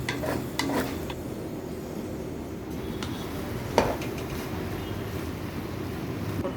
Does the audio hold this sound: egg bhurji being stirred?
yes